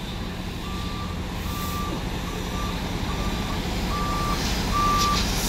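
Dump truck reversing at night, its backup alarm sounding six evenly spaced beeps over a loud, steady engine rumble, with no talk.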